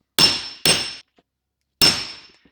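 Three sharp metallic hammer blows strike the king pin spindle of a 1962 Volkswagen Beetle, two in quick succession then one after a pause, each ringing briefly before fading.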